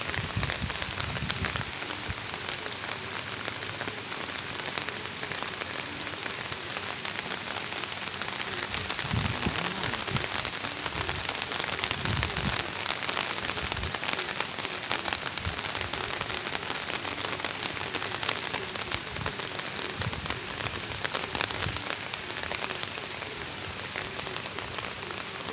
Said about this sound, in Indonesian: Hujan dari kemarin sore ya